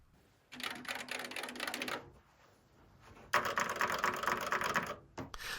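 Typing on the keyboards of Franklin Ace 1000 and 1200 computers, early Apple II clones: two quick bursts of dense, clicky keystrokes separated by a short pause, then a single late clack, close and fairly quiet.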